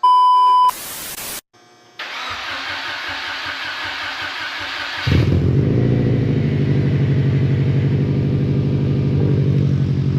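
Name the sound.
Subaru WRX engine with Cobb 20g turbo running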